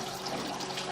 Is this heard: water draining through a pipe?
yes